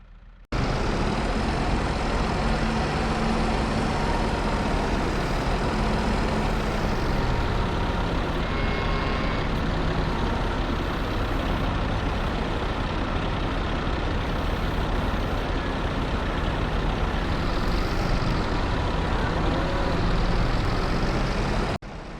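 A tractor engine drives steadily in a farming simulation game, a loud continuous low rumble that holds for the whole stretch, with a slight change in pitch about midway.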